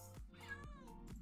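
A cat meows a few times in short, close, clear cries within about a second, with steady low background hum and no talking.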